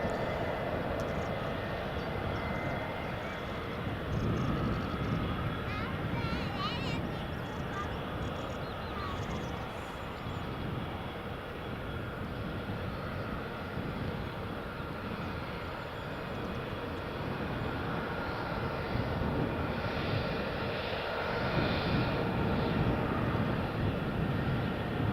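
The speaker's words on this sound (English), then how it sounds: "EasyJet just lining up to depart." An EasyJet airliner lines up to depart at Edinburgh Airport in the early morning, its engines a steady, moderately loud broadband roar that holds through the whole stretch with only slight swells.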